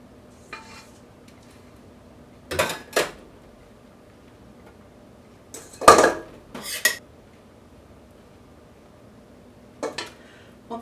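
A spatula scrapes chocolate zucchini cake batter from a bowl in a few short clattering bursts, the utensil knocking against the bowl between quiet pauses.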